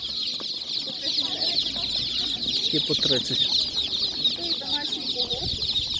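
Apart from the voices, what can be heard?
domestic roosters and chickens clucking at animal market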